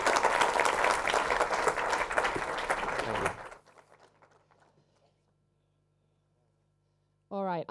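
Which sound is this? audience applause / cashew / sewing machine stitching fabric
audience applause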